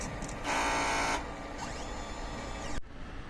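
A printer runs a nozzle check pattern after a head clean, giving a steady close-up mechanical whir with shifting motor tones that stops abruptly near the end.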